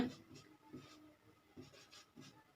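Pen scratching on paper while a maths formula for hemisphere volume is worked out, quiet irregular strokes in short bursts with no talk.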